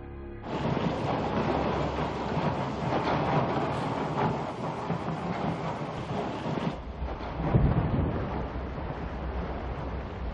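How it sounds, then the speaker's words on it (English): Coast Guard icebreaker Polar Star grinding through Antarctic sea ice in McMurdo Sound, a loud, continuous heavy rumble with crunching and scraping that shifts partway through, with no voices. "The U.S. Coast Guard icebreaker, Polar Star, arrives to cut a passage for a freighter to bring in supplies to Mactown."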